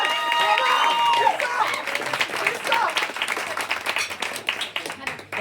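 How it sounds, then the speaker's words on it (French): Audience applause at a French improv comedy show, a dense wash of clapping with some cheering that stays loud throughout and thins slightly toward the end, with a few voices mixed in. "On applaudit par politesse et par plaisir."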